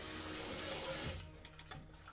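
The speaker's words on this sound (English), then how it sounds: "Add some water into this." Water pours steadily into a pot for about a second, then cuts off, leaving faint splashes and drips.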